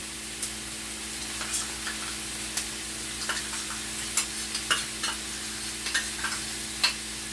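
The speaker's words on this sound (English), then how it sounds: "we're going to go ahead and add our raw butter to it and let that butter cook and start to brown" Butter sizzles and browns in a non-stick pan with a steady soft hiss, broken by frequent small pops and spits scattered irregularly throughout.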